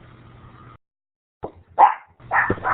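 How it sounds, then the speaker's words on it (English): A household dog barks during an online talk about social networking, giving a few sharp, close barks in quick succession after a brief silence, with no voices over them. "I'm sorry about my dog barking"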